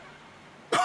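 A single sharp cough bursts out near the end, loud and close, after a stretch of quiet room tone in an indoor domestic scene.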